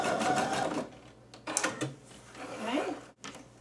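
A sewing machine locks a stitch on sweater fabric with a short run of close, whirring mechanical stitching, then a pause before another brief burst; a voice is faintly present.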